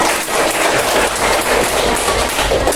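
Classroom applause from students during a chemistry lesson on electrolyte solutions, a steady dense patter of clapping filling the whole stretch at even loudness.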